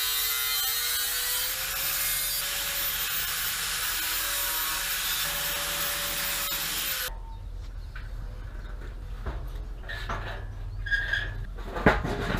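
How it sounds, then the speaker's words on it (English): Paddle wheel back-grinding a curve into cut steel: a loud, steady abrasive hiss with a faint whine for about seven seconds, then it stops, leaving light clinks and handling noises. "I'm going to take the paddle wheel and I'll back grind that a little bit as a curve"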